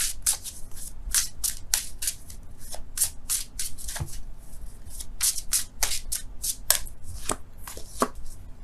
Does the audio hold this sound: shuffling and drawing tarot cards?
yes